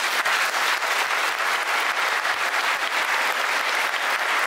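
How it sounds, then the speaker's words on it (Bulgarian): Audience at a folk orchestra concert applauding, dense continuous clapping from a large crowd, loud and even for several seconds with no talk. "Аплодисменти."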